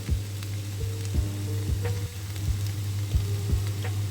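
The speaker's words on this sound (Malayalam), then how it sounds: "എല്ലാം കൂടെ ചേർത്ത് നന്നായിട്ട് ഇളക്കി മിക്സ് ചെയ്തെടുക്കുക." Prawn roast masala sizzling in a pan with a soft, steady hiss, broken by a spoon knocking against the pan in a loose, repeated rhythm as it is stirred.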